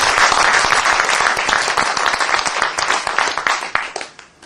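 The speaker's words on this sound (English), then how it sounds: "let's give them a round of applause" Conference audience applauding at a closing session: dense, steady clapping from a sizable crowd for about four seconds, then fading out at the end.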